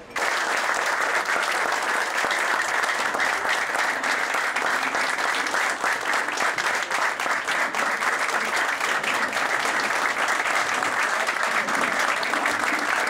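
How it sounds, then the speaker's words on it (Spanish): An audience gives a long, loud, steady round of applause, thick continuous clapping at even intensity from start to finish. "vamos a darle un aplauso fuerte"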